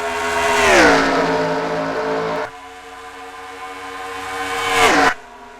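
A race car engine roars past during a short-track heat race, a loud close revving pass whose pitch drops as it goes by, then a quieter stretch before a second car screams past and fades.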